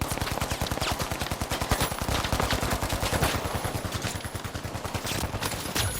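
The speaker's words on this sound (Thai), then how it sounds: "มันยิง มันยิง มันยิง มันยิง" Rapid bursts of automatic gunfire in the video game The Finals rattle continuously and loudly, dense rhythmic shots with a few brief pauses.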